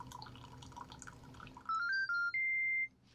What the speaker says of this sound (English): then we'll have our coffee brewing.